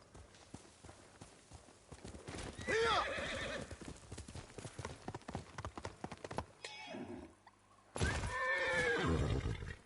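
A horse in the video game Ghost of Tsushima gives two loud whinnies amid a steady clip-clop of hooves, with someone talking quietly underneath.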